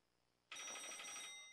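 A telephone starts ringing abruptly in the alien abduction game Stay with Me!, a bright, steady electronic bell trill that sounds close and loud on its own and carries on unbroken for about a second.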